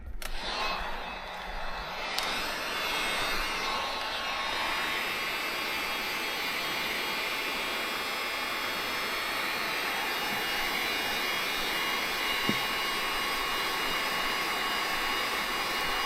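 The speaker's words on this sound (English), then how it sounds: "Let's grab our heat gun." A heat gun blows steadily during window tinting on a hatchback's rear glass, a continuous, even rushing whoosh that holds for the whole stretch without pause.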